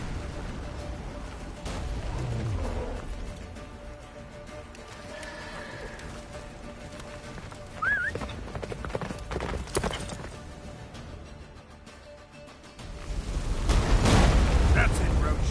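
Roach gallops in The Witcher, hoofbeats drumming under a dense, roaring game soundscape with wind-like rumble, swelling loud toward the end, while a voice speaks over it.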